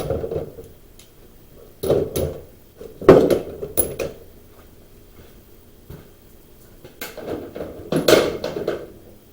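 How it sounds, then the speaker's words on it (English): Metal lug nuts from the rear dual wheels of an expedition truck dropped by hand into a container, sounding as scattered clinks and rattling clatters in several bursts, close up with quiet gaps between. "Let me put all these other lug nuts in there."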